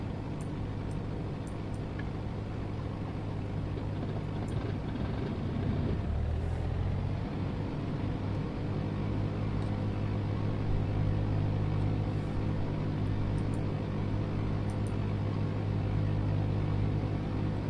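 A light aircraft's piston engine drones in the Sierra Pro Pilot USA flight simulator game, a steady, loud hum with a low rumble that shifts pitch once, then holds even with no speech.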